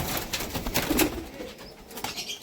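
Kamagar pigeons being released from the hand, soft cooing and a brief flutter of wings at close range, faint and short with no talk.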